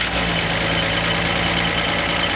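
A Chevy engine fitted in a 1960 Austin Princess limousine idles in a steady, even drone, close and continuous with no talk.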